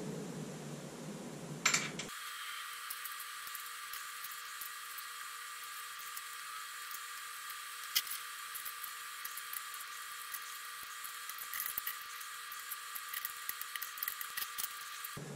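A power drill drives screws to mount a home-made punching bag, a sharp contact at the start followed by a long steady high-pitched motor whine with a few small clicks and clunks along the way.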